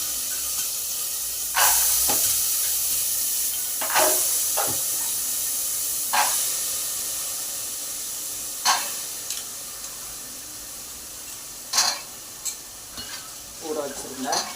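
Tempering spatters and sizzles in a hot pan in a home kitchen, with a steady frying hiss broken by scattered sharp pops and crackles, fairly close and moderate in level.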